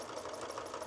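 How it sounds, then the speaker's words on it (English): A sewing machine stitches fabric during quilting, running as a faint, steady mechanical whir with a rapid even rhythm. "I'm gonna trust you, machine, because we've been sewing on you all day"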